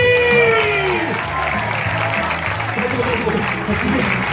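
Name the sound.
audience applauding circus stage performer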